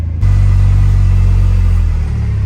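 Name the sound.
vehicle driving off-road through a field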